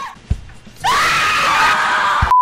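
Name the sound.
the speaker's own scream replayed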